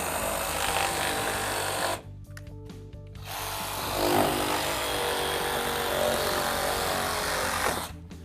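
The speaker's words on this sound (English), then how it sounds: "take the cut-off blade, put it in the tool, power it up, and make your cut" Power tool fitted with a cut-off blade slicing through existing drywall, a loud steady whine running almost continuously with brief drops around two to three seconds and near the end, no talking.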